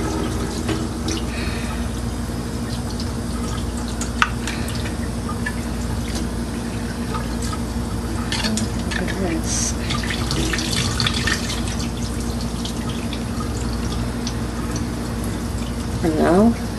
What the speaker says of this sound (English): Now it says to rinse, so we are gonna rinse the water.